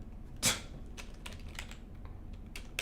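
Clicks and taps of typing on a computer keyboard, one louder keystroke followed by scattered quieter presses, close and fairly faint with no speech.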